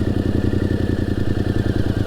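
A motorcycle in first gear as the clutch is slowly released to pull away, its engine giving a steady, close, rhythmic thumping throb throughout, with no speech.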